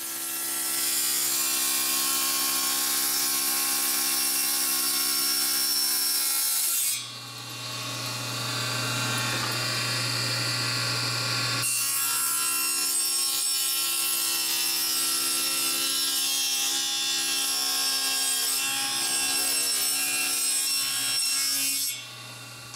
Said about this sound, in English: I need to make one more cut on the table saw